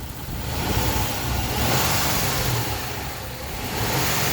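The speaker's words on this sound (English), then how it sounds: "I'm going to let it run just a little bit longer, and I may rev it up a couple times" A 2005 Hyundai Sonata engine runs steadily up close with a broad, continuous rumble and hiss, swelling slightly in waves as it is gently revved during cooling system bleeding; no voices are heard.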